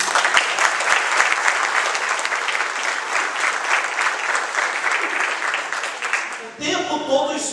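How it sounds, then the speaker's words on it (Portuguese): Sustained applause from a church congregation at a Wesleyan opening worship service, loud dense clapping that carries on steadily for several seconds before giving way to a voice near the end. "Aplauda o Senhor Jesus."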